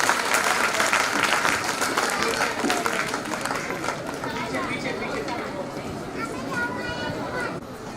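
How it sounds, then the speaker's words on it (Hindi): Audience applauding the performers of a stage play about the 1857 rebellion, staged for the Vande Mataram 150th anniversary in Meerut; dense, steady clapping of a large crowd with some chatter, holding loud throughout and easing slightly toward the end. "एक बार तालियों से एक बार स्वागत तमाम कलाकारों का"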